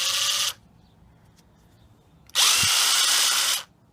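A Ridgid Gen5x cordless drill driving a screw on its lowest of three speeds whirs in two steady bursts, each lasting about a second, separated by a short quiet gap.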